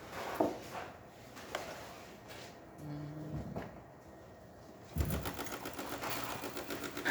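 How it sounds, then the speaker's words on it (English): A DeLonghi espresso machine brews a shot: quiet clunks and knocks early on, then from about five seconds a steady, vibrating pump buzz at low volume. "nice shot of espresso coming out from this beautiful machine"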